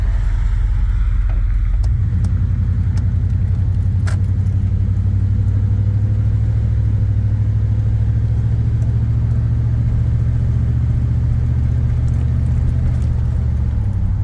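A truck engine with a suspected failing intake plenum and a fluid leak runs in a parking lot, a loud, close, steady low rumble that drones on without a break and with no talking.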